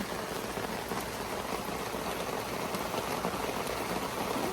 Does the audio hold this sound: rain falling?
yes